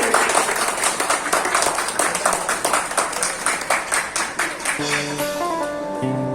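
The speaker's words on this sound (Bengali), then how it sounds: "সবাই সবাই ধরে হাত তালি।" Crowd of people clapping together at a gathering during a Cox's Bazar tour, a dense steady burst of applause that continues for several seconds and then thins out as faint voices and music come in.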